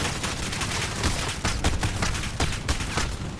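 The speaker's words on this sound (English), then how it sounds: "It takes a long time to shoot them with a little SMG" SMG fire in a PS4 shooter: loud, dense, continuous bursts of rapid shots with crackling impacts and layered battle noise, never letting up.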